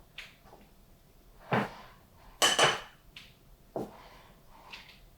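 Utensil scraping and tapping against a mixing bowl while fat is chopped and worked into flour for pasty dough: a few sharp scattered clinks and scrapes separated by quiet gaps, no talking.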